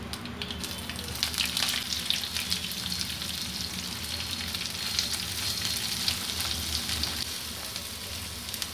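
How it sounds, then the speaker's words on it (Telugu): Onion and green chili pieces fry in hot tempering oil for a tangy lentil-dumpling curry, giving a steady, dense sizzle that holds close and loud throughout with light crackling and no talk. "పోపు వేగిన తర్వాత ఉల్లిపాయ ముక్కలు, పచ్చిమిరపకాయ ముక్కలు వేసేసేయండి."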